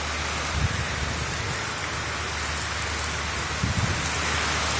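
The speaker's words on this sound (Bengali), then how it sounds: "বৃষ্টি পড়তেছে কিছু" Rain falls steadily in a constant hiss, with a couple of heavier patters on a surface; no one speaks.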